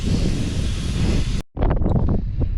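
Wind roars loudly across the microphone outdoors during flux-core welding, cuts out for a moment, then returns in rougher, choppier bursts.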